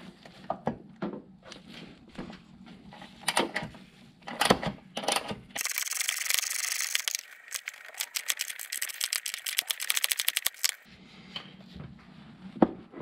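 A ratchet loosens 10 millimeter bolts on a bracket of a 2006 Subaru Impreza WRX, with rapid close clicking in bursts, a sustained run of ratcheting, and scattered metallic clinks and thunks.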